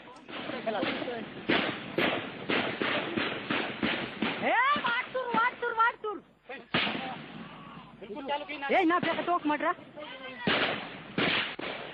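Repeated bursts of gunfire crack through a forest, irregular and loud, with people talking and shouting between and over the shots.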